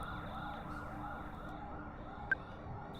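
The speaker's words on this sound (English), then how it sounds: "percussive sounds are replacing the police sirens playing out before" Police sirens in a late-night scene of the video game EarthBound, heard faintly and steadily in the background under a low ambient rumble, with one brief sharp blip near the end.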